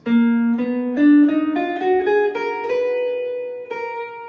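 Clean plucked guitar notes climb one by one up a Phrygian dominant scale, each ringing briefly, the last note sustaining alone.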